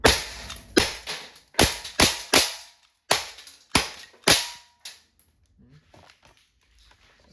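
An Umarex Glock 17 Gen 5 MOS CO2 airgun fires about eight sharp, snappy shots at close range in an irregular rhythm, each crack decaying quickly, followed by quieter handling and murmured talk.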